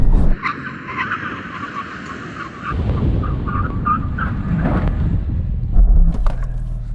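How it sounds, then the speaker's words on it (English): A Ford Mustang Mach 1 and Porsche Cayman GT4 and 718 Cayman braking hard from 100 mph in a brake test, a loud sustained rumble of engines and tyres with skidding squeal, close and continuous, no talk. "we're going to do a brake test from 100 miles an hour"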